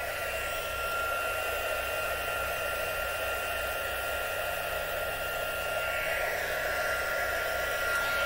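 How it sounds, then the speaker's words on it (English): A craft heat tool blows hot air in a continuous, even whir with a steady motor hum, running close and unbroken from start to finish. "Heat up my heat tool"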